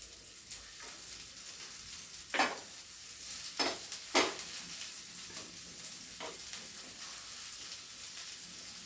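Soya chunk kababs hiss softly in ghee on a hot griddle, a steady low sizzle broken by a few sharper bursts and scrapes from turning, near and moderate in level with no voices.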